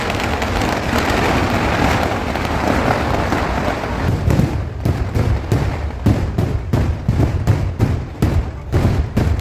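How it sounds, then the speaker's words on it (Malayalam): Dense, roaring daytime fireworks barrage by Paramekkavu at Thrissur Pooram, first a continuous rumbling wash, then a rapid string of loud, sharp bursts cracking in quick succession. "ഇപ്പം നിങ്ങൾ കണ്ടുകൊണ്ടിരിക്കുന്നത് ഒരു പാറമേക്കാവിൻ്റെ വെടിക്കെട്ടാണ്."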